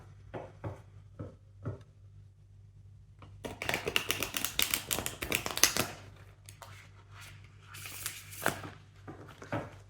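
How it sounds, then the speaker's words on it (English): Tarot cards shuffled by hand, a quiet patter of soft taps giving way to a dense, crackling riffle of cards in the middle, then lighter shuffling near the mic. "Just going to shuffle again like this in order to refresh a bit the deck."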